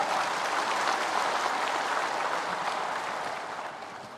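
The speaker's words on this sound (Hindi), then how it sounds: "हम लोग फिर जोरदार ताली से स्वागत करें सर का।" An audience at a state-level brick manufacturers' conference in a hall gives a guest sustained, dense applause, with many hands clapping evenly throughout before it tapers slightly toward the end.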